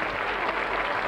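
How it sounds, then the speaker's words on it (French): A studio audience applauds on a French children's talent show, a short burst of dense, steady clapping with no voices over it. "On les applaudit."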